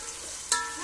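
Tomatoes frying in a pan, a continuous soft sizzle with one sharp spoon scrape or clink partway through as they are stirred.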